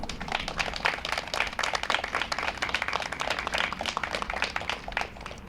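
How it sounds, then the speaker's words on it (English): Scattered audience applause at a middle school Veterans Day flag-raising ceremony, honoring a Marine Corps veteran; steady, moderately faint clapping from many hands, sustained throughout. "Let's give him a round of applause."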